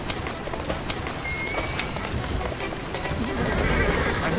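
A horse whinnies in the video game Assassin's Creed Syndicate, set against a busy ambient bed of birdsong and a faint high whistle, with brief bright vocal bursts early on and steady background noise throughout.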